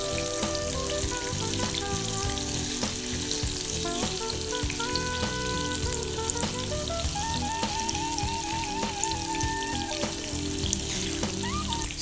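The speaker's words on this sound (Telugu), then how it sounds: "వీటిని మనం డీప్ ఫ్రై చేసుకోవాలి" Banana paniharam deep frying in hot oil, a steady dense sizzle with fine crackling bubbles that holds continuously and evenly throughout, close and uninterrupted.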